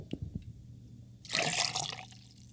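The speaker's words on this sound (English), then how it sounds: "Then, pour it all in a shaker full of ice." Beetroot brine mixture poured into a shaker full of ice, a short bright splashing pour after a few faint clicks, close and fairly quiet.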